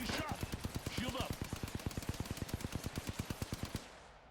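Rapid automatic gunfire in Apex Legends, a fast, even burst of about thirty close shots that stops abruptly, with a voice speaking briefly over the start.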